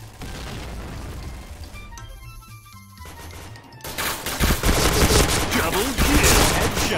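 Gunfire rattles in a first-person shooter video game, quieter bursts at first, then a loud dense barrage of shots and impacts, with a voice talking faintly underneath.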